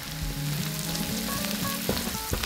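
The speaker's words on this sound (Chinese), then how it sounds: "先加1大匙红油进锅" Red chili oil, a Sichuan-style chili oil with spices, sizzles steadily in a hot wok for Mapo tofu, a dense close crackle with faint clinks and no talk.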